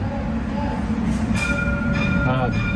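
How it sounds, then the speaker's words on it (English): Dubai tram rumble with faint metallic clinks and a brief high tonal ring, steady and fairly close. "Guys, look at the tram."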